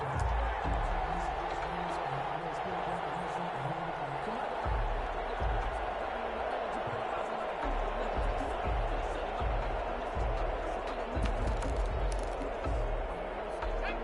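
Stadium crowd noise from a PS4 American football video game, a steady distant roar and murmur running continuously behind a voice talking over it.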